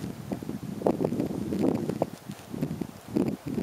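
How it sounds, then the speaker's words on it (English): A breeze blowing across Quimby Lake, a small lake between hills, buffets the microphone in steady, gusty low rumbles that rise and fall for several seconds with no voices. "Bit of a breeze picked up, especially out on Quimby Lake."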